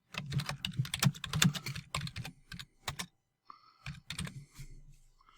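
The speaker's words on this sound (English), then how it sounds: "let's say that I want to just type in something here" Rapid keystrokes on a computer keyboard, close and fairly loud, in uneven bursts of clicks with brief pauses and a quieter stretch near the end.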